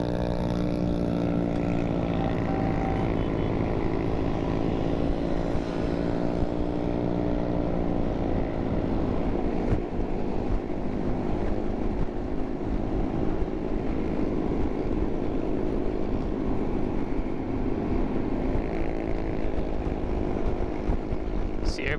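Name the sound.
Honda Helix scooters riding off as a group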